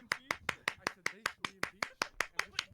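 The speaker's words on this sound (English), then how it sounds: "Hey, I'm clapping." Hands clapping in a slow, even rhythm, about a dozen sharp, close claps spaced evenly apart, alone without any talking.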